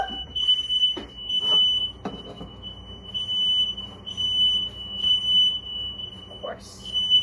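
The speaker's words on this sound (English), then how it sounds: "how do you do this without like setting off the smoke alarm?" A kitchen smoke alarm shrills with a continuous high-pitched tone while someone cooks doubles, talking and moving around nearby with intermittent clatter.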